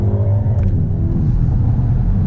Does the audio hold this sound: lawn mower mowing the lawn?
no